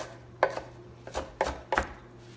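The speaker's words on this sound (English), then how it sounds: "I'm just gonna chop it up." Four crisp knife strikes chop fresh spinach on a cutting board, each one a separate close tap with short pauses between them and no voices.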